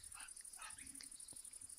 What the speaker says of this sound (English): Coco's barking at Piper because Piper's running around playing